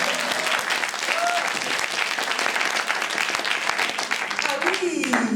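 Sustained applause from an audience at a spring poetry evening in Doussard, steady dense clapping filling the hall throughout, with some voices and brief chatter breaking through near the end.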